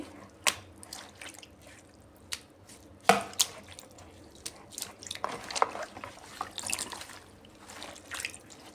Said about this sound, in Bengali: এভাবে ভালো করে একটা একটা করে দুই তিনবার জল বদলে বদলে ধুয়ে পরিষ্কার করে নিচ্ছি